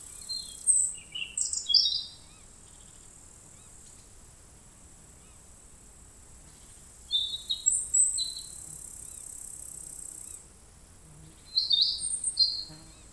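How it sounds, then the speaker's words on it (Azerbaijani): Birds chirp and sing in the sunny autumn Hirkan forest: three bursts of high trilling calls at moderate distance, separated by quiet stretches with a faint background hum. "Günəşli payız Hirkan meşəsi, qəfildən quşların cikkiltisi, fit səsləri və hətta əsl nəğmələrlə canlanır."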